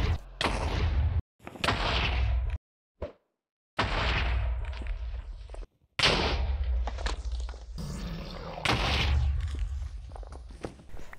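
End crystals in the Minecraft video game blow up in a string of loud booming blasts separated by short silences, with scattered thuds and footsteps between explosions.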